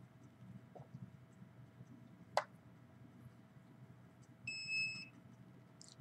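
A radio frequency detector gives a brief, high electronic beeping tone against a quiet room hum, with a single sharp click just before it and no speech.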